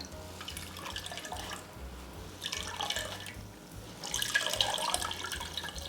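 Liquid dripping and trickling from lavender petals squeezed by hand over a colander, soft close splashes and drips rising in bursts, quiet and without talk.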